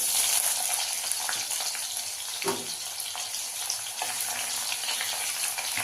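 Onions fry in hot oil with cumin, panch phoron and dried chilli, giving a steady close sizzle with an occasional stir or clink, no talking.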